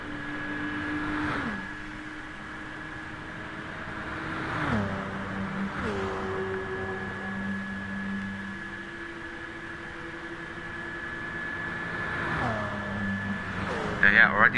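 Racing car engines from a racing video game, a steady drone with several quick gear-change drops in pitch, faint and under a commentator's voice.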